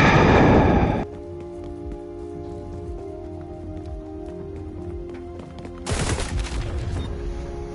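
Rapid bursts of gunfire from the shooter XDefiant on PS5 crackle dense and loud at the start, give way to a quieter game ambience, then return as another close burst near the end.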